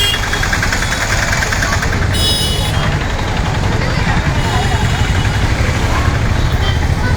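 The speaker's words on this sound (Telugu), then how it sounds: "గుంటూరు బస్సు వస్తుంది" A Guntur-bound bus pulls into a bus stand in Andhra, its engine giving a loud, close, steady rumble that continues unbroken throughout.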